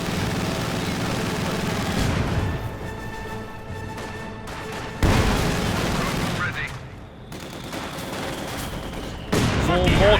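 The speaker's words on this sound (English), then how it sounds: "450 caliber machine guns firing away" Anti-aircraft half-track in Company of Heroes 2 firing its machine guns in sustained bursts amid battlefield gunfire and mortar impacts, with a commentator talking over the clatter.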